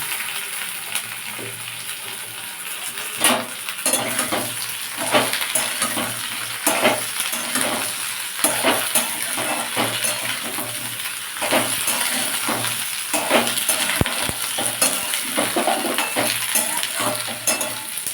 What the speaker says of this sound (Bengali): তাই শিম আর বেগুনটা দিয়ে দেবো